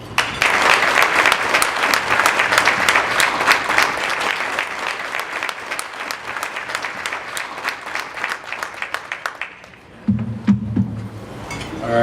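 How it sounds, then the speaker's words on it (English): An audience at a golf benefit gala dinner with an auction claps loudly and steadily for about ten seconds, then the applause thins and stops, leaving room noise. "how about another round of applause for Jason, Stacy"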